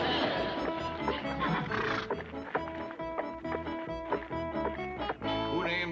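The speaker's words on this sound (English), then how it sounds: "Who named his horse Lightning?" A horse neighs and whinnies amid a busy mix with music and hoof clip-clop, the animal's calls rising through a continuous loud backdrop in an old television scene.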